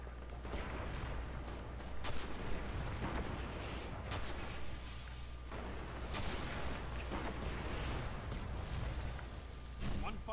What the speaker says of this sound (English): I'm just throwing incendiaries.